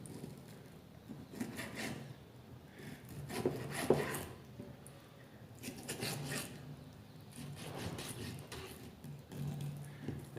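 A knife cuts slits into raw chicken for tandoori, giving soft repeated rubbing and scraping strokes against a cutting surface, faint and close, with light handling noises in between.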